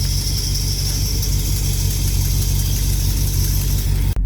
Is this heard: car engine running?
yes